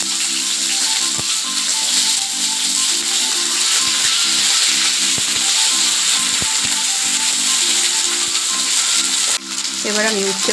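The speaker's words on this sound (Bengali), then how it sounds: "এবার আমি উচ্ছেগুলো ভেজে নেব।" Sliced bitter gourd frying in oil in a wok, a loud, steady sizzle with occasional stirring clatter and a sharp scrape near the end, with a faint hum in the background.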